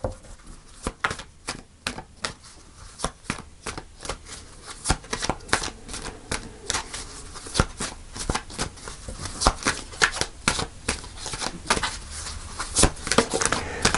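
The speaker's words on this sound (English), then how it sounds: "So I'm going to pull a final card." Tarot cards are shuffled by hand in quick, crisp riffles and snaps, a close and busy run of papery slaps and flutters that keeps going with no talking.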